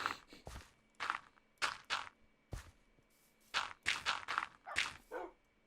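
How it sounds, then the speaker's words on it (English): A dog in the video game Minecraft gives a run of short, sharp barks and yips, about a dozen close, clear bursts spaced irregularly, with no talk. "the cute little bark."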